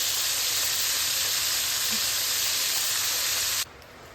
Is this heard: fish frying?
yes